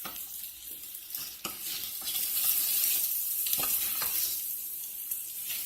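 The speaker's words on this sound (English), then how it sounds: "now I'm going to go back and stir my rice, because what I'm trying to do is also coat my rice with the olive oil" A spoon stirs basmati rice coated in about three tablespoons of olive oil in a pot, giving steady scraping and gentle sizzling with a few sharper knocks against the pot, close and alone.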